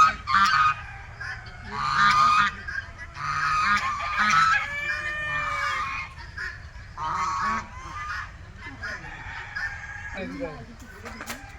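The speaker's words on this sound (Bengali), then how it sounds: "চারিদিকে দেখতেছেন হাঁস, রাজহাঁস," Geese on a farm in Dhamrai upazila honk loudly and close by in repeated bursts, with other fowl calling and clucking around them.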